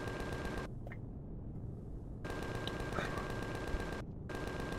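Turret gunfire in the space survival game Empyrion Galactic Survival (Reforged Eden 2) rattles in dense bursts, broken by two brief pauses, loud and close throughout.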